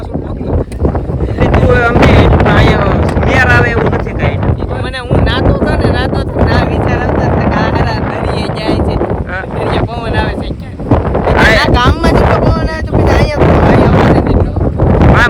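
Gusty wind buffets the microphone in a steady roar while people talk over it outdoors.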